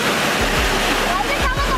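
Floodwater gushing loudly out of a flooded backyard after a tropical thunderstorm, a close, roaring rush with wind buffeting the microphone.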